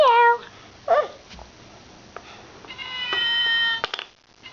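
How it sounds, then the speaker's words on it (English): A cat meows twice, once at the start and again around the middle, then a longer drawn-out meow near the end, fairly close and clear. "It's a kitty cat. What is the... Meow, meow, meow."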